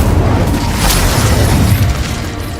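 Incendio fire spell cast during a duel in Hogwarts Legacy, a loud, dense burst of roaring fire and booming impact lasting a couple of seconds, heavy in the low end.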